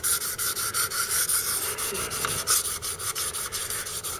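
A knife blade being stroked on 1000 grit paddles of a Wicked Edge sharpener, a steady rhythmic scraping rub repeating in quick, even passes, close up with no talking.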